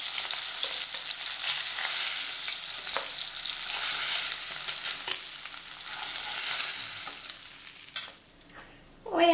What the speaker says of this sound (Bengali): অপর দিকটা 2 মিনিট ভাজবো।